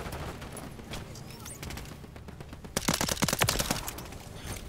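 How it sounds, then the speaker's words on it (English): Gunfire in the video game Modern Warfare 3, scattered shots early and then a dense rapid burst of overlapping shooting, heard over low background game noise. "Oh, they're all shooting each other because of the EMP."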